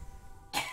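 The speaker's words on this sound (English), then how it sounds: "He's coughing" A single short, sharp cough bursts out after a moment of quiet, close and fairly loud.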